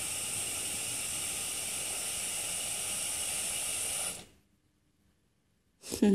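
An Electrolux PCC20 electric pressure cooker cooking beans hisses steadily as it builds pressure, a constant close hiss that stops abruptly, then a short silence and a brief noisy burst.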